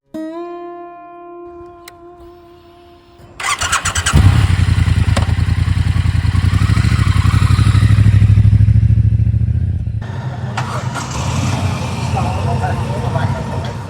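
A Triumph Bonneville T120 or Moto Guzzi V7 850 motorcycle rumbles in loud and close after a quiet start, holding a strong, steady engine roar that eases slightly toward the end.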